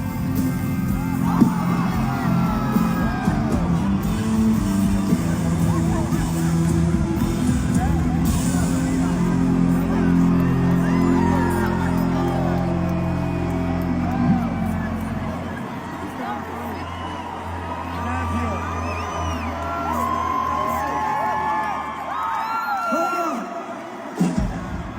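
A large country concert crowd cheers, whoops and shouts in a steady roar after the singer takes a fall onstage, the loud din thinning out near the end.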